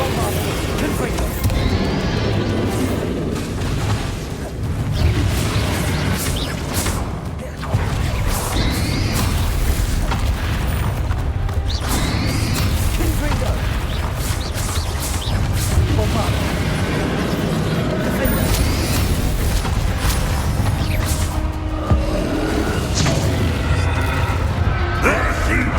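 Confringo spell blasts during combat in Hogwarts Legacy, repeated booms, whooshes and crashes recurring throughout a long, busy stretch, with voices talking over the fighting.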